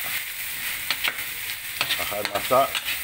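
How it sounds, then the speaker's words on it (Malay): Chili ingredients fry in a pan for ikan goreng bercili, a close, constant sizzle broken by scraping, clattering stirs of a utensil against the pan. "Kacau sehingga bahan ni masak."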